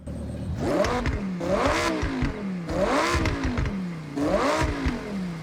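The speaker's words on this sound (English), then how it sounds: "So here is the Huracan Evo, also an S1 car, and also looks absolutely amazing. Anyways, let's get a little sound test of this thing." Lamborghini Huracan Evo in Forza Horizon revving repeatedly, four rising-and-falling throttle sweeps in steady rhythm over a rough idle, loud and close with no voices.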